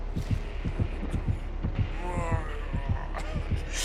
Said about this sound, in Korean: 어 잠깐 심장 소리 심장 소리